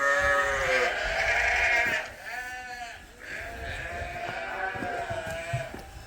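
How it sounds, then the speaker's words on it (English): Sheep bleat repeatedly on a farm on a cold night, several wavering calls overlapping at close to middle distance, with faint background voices. "I think there's a few sheep out here."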